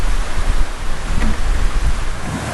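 Loud, gusty wind buffets the microphone in a rough, broadband roar that surges and dips over a couple of seconds.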